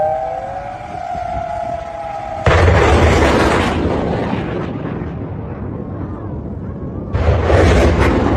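A warning siren wails, then loud, heavy blasts roar in at about 2.5 seconds and again near 7 seconds as an Iranian missile strike hits a US base in Qatar.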